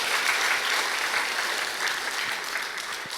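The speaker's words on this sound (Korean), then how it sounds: "박수 한번 해주세요." Steady applause from a church congregation at an early-morning worship service, a dense even patter of many hands clapping at full volume for the whole stretch with no voices.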